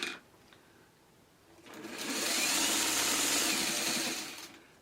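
A sewing machine runs steadily over quilt seams while nine-patch blocks are pieced, starting after a quiet pause and whirring loudly and continuously near at hand for about three seconds before stopping.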